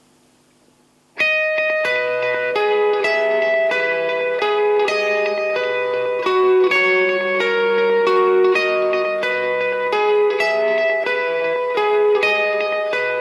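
Electric lead guitar through compression and two Boss digital delays, played on the middle pickup for a live worship band take: a sustained, echoing melodic line that starts after a second of near silence and rings on steadily and loudly.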